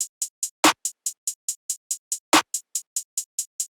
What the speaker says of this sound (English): it's again just a default clap pattern